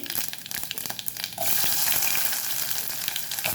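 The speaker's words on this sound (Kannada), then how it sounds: "ಎರಡು ಟೇಬಲ್ ಸ್ಪೂನ್ ಎಣ್ಣೆ ಕಾದ ಮೇಲೆ ಸಾಸಿವೆ ಸಾಸಿವೆ ಪಿಟಿ ಅಂದಮೇಲೆ ಜೀರಿಗೆ ಜೀರಿಗೆ ಆದಮೇಲೆ ಈರುಳ್ಳಿ" Chopped onion dropped into hot oil with spluttered mustard seeds and cumin in a kadai, a bright crackling sizzle that swells suddenly and stays loud and continuous.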